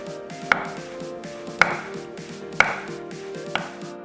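A knife slices tofu into 1 cm pieces, thudding on a cutting board four times at an unhurried, even pace, close up over a faint background hum.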